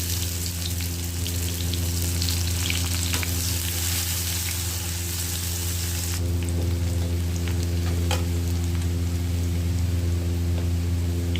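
Chopped garlic and onion fry in a pan with a steady close sizzle, punctuated by scrapes and clicks of stirring and a faint splash of water, no one speaking.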